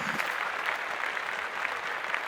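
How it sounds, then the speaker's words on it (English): Steady applause from a studio group or audience honoring the late Harry Belafonte, a dense continuous patter of hand claps at moderate level, no voices over it. "I want to give a round of applause to Harry Belafonte"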